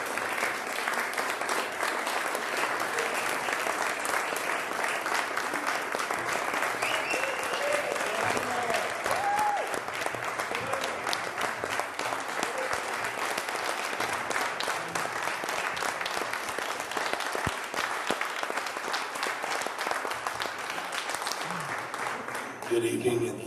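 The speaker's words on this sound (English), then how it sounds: "Thank you very much for the applause." Sustained, dense audience applause at a community event fills the room evenly and strongly for over twenty seconds without letting up.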